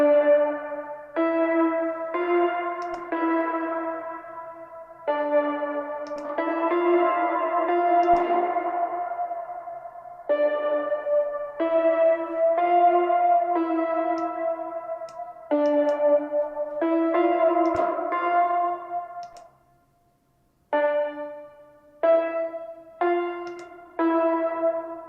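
Synth melody processed through the Baby Audio Spaced Out reverb and delay plugin, short note phrases smeared into echoing washes and trailing repeats, steady and fairly loud with a brief gap near the end.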